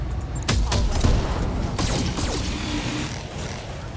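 Mech weapons fire in a BattleTech battle: a burst of several sharp impacts and shots comes first, followed by mechanical clanks and creaks. The sounds are close and loud, with no speech over them.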